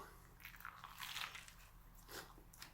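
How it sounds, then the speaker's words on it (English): A crisp, crunchy bite into a grilled cheese mushroom melt sandwich on toasted rye bread, a few close crackling crunches over about two seconds with no talking. "That was a terrific bite out of this sandwich."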